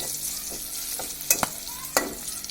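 Garlic frying in a pan, a soft steady sizzle with a few sharp clinks of a spoon stirring against the metal, close and alone.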